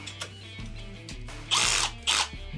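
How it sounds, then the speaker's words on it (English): A power drill whirs at low speed, stirring thick concrete mix with a paint mixing paddle, with two louder, harsher bursts of grinding as the load increases. "Hook up our drill to our little paint mixing paddle."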